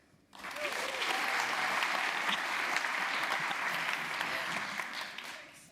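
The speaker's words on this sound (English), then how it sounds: "I'm going to ask you guys to clap or make some noise if you've been to New York" A lecture audience breaks into sustained clapping and some cheering, a dense, steady wash of applause that starts abruptly, holds for several seconds and tapers slightly at the end.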